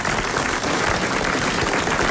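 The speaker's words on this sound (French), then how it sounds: "il va avoir tout de suite droit à vos applaudissements" A studio audience at a radio comedy show applauds in a steady, even wash of clapping that holds at a moderate level throughout, with no speech over it.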